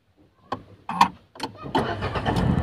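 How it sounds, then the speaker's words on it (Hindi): A car engine cranks in a few short bursts, then catches and settles into a steady running rumble, heard close with no talking. "अभी गाड़ी को स्टार्ट किया हूँ मैं"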